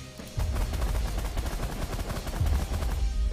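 Weapons firing in The Last Federation space combat, a rapid stream of loud, punchy gunfire bursts repeating steadily, with a heavier thump partway through.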